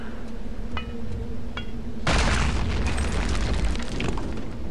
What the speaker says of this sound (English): BJ, you're just no good with grenades, I'm sorry.